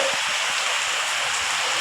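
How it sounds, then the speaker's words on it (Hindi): Heavy rain pouring down steadily, a dense, loud hiss of water close by with faint patters beneath, no pauses. "पता है कितनी तेज बारिश आ रही, पूरी बहुत सारी यहाँ तक आ रही है।"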